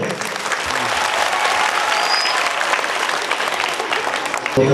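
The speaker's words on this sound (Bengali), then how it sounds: "শিক্ষকদের জন্য একটা জোরে হাততালি হবে।" Loud, sustained applause from an audience honouring teachers at a school golden jubilee programme, dense clapping filling the whole stretch without letting up.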